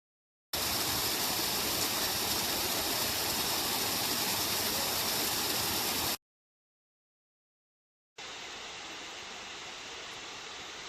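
Loud, steady roar of rushing water at Kondalila Falls, a waterfall in Australia, broken by a brief silence before the rushing noise resumes slightly duller.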